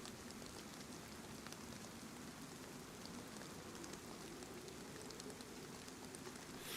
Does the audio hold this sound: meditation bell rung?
no